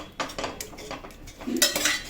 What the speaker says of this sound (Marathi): थोडंसं असं चमच्याने मॅश करा